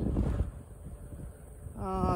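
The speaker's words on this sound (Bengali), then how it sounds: "বাতাসের গতিবেগ অনেক" Strong cold wind at the Saint Aubin seaside resort in Mauritius buffets the microphone as a steady low roar, with a brief tonal hum rising near the end.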